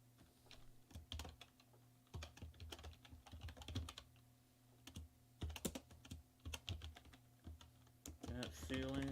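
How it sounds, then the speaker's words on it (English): Fingers type on a computer keyboard in quick, uneven bursts of close clicking separated by short pauses, with a quiet voice briefly at the end. "So I'm going to type that in real quick."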